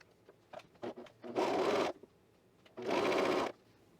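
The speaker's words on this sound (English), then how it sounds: "we should be fine just sewing it all in one fell swoop" Sewing machine stitching a fabric seam for a knit top, a few soft handling clicks and taps followed by two loud, close bursts of steady machine whirring with a short pause between them.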